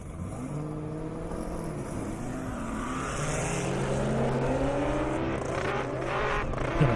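A ZL1 Camaro and a Mustang drag race on a half-mile airport strip at the Indy Airstrip Attack, their engines revving upward in rising, overlapping sweeps, somewhat distant and steadily building.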